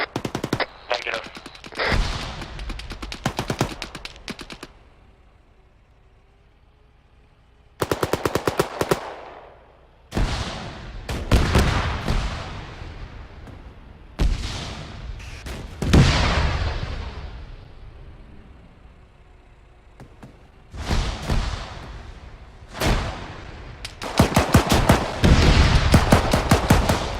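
Rapid bursts of automatic gunfire in a military video game mission, loud clusters of rattling shots separated by quieter pauses, with several heavy volleys toward the end.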